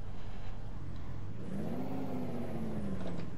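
Peterbilt 379 truck engine in Euro Truck Simulator 2 revving up, a loud rising then easing drone with whirring mechanical tones, heard alone without talk.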